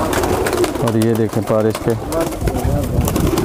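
High flyer pigeons, including a Sialkoti pair, cooing in short warbling bursts close by, under someone speaking over them.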